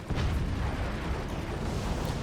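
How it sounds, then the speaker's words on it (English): A video game battle with howitzer fire and explosions: a dense, continuous roar of booming blasts and bursts, loud and low-heavy throughout, with no speech. "The howitzer taking out both nukes."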